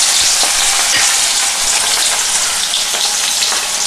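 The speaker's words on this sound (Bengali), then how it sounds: "এবার দিয়ে দিচ্ছি আমি নুন হলুদ মেখে রাখা মাছ।" Fish pieces rubbed with salt and turmeric crackle loudly in hot oil, a dense, close, continuous sizzle with tiny spitting pops and faint stirring underneath, with no voices.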